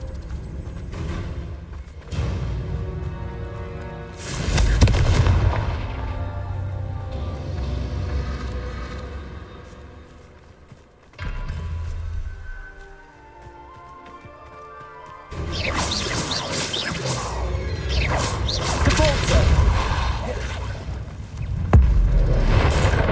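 Blasting-spell explosions from a fantasy magic video game, several loud crashing booms with whooshes that burst out repeatedly at uneven intervals, with rumbling debris between the hits.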